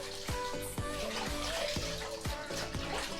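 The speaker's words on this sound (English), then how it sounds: "I'm just going to rinse it all off now." Water from a tap or hose rinses a dog during a bath, a steady splashing spray close by with repeated squeaky rubbing or movement sounds and no talk.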